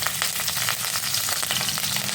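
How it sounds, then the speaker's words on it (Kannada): Cumin, mustard seeds and curry leaves are tempered in hot oil for a North Karnataka amaranth palya, giving a dense, continuous sizzle with rapid crackling pops. It is close and loud, with no talk. "ಈಗ ಇದಕ್ಕೆ ಒಂದು ಸ್ವಲ್ಪ ಜೀರಿಗೆ ಒಂದು ಸ್ವಲ್ಪ ಸಾಸಿವೆ ಹಾಕ್ಕೊಡ್ರಿ ಮತ್ತು ಒಗ್ಗರಣೆಗೆ ಒಂದು ಸ್ವಲ್ಪ ಕರ್ಬೇವು ಹಾಕ್ಕೊಡ್ರಿ"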